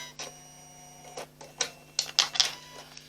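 An embroidery machine stitches lettering onto a fabric mug rug, making quick mechanical clicks and short whirring bursts over a faint steady hum, close up and with no talk.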